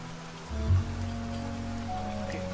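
Steady rain patters in the video game Niche, a continuous soft wash of drops running evenly throughout, with a low hum swelling briefly near the start.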